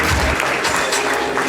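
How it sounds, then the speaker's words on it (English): An audience at a company's 60th anniversary celebration party applauds as honorees walk up to the stage, a brief burst of full, steady clapping from a crowd, loud and close. "A round of applause for them as they come up"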